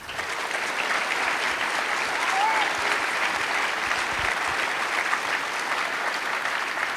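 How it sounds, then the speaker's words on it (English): A conference audience fills the room with sustained applause, a dense, steady wash of many hands clapping at fairly loud volume throughout, with no speech over it. "please give a round of applause to our Ruby level sponsors"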